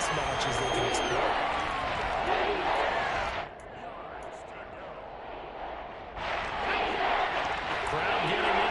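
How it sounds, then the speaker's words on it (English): A stadium crowd in the Madden 23 football video game cheers in a broad, continuous roar that dips for a few seconds and then swells again, with commentary voices over it. "Crowd getting in it a bit already."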